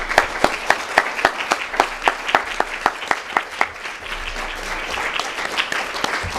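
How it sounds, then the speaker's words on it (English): Rhythmic, distinct handclaps from an audience at a professionals conference build into a full round of applause. The steady clapping carries on clearly without talk. "I think we should all give Jane and yourselves a round of applause."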